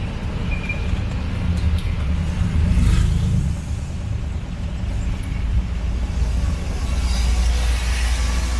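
City street traffic in Cebu City, a steady low rumble of idling and passing vehicles with occasional engine swells, continuous and fairly close.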